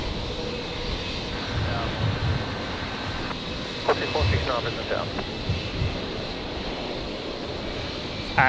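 A Qantas Boeing 737 arriving from Melbourne at Brisbane Airport onto runway 19 left, heard as a steady broadband jet roar throughout with faint voices in the background.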